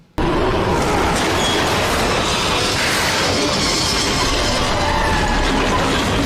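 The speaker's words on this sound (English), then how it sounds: "you don't have the train going by in slow motion" A loud, dense rumble of a train rushing past in a movie (Ape vs. Monster), with roaring wheels and clattering metal filling the whole clip.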